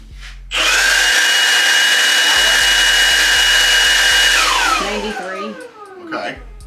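Milwaukee M18 cordless blower spinning up to a loud, steady high whoosh that holds for several seconds, then winds down with a falling whine, close by, with a low buzzing hum underneath.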